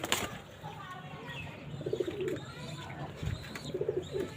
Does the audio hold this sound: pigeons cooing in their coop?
yes